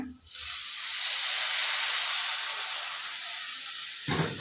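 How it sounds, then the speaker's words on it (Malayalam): Hot water poured into a hot pan of onion and masala gives a loud, steady hiss of steam that holds for about four seconds, then cuts off abruptly. "നല്ല ചൂടുവെള്ളം ഒഴിച്ചു കൊടുക്കാം."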